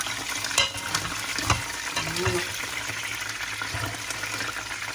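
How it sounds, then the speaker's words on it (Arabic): Chicken browns and fries in a pan for an Algerian tajine, a soft steady sizzle with a few stirring scrapes and knocks, close by, with no talk. "يلا البنات شوفوا الدجاج تاعنا خذ التحميره"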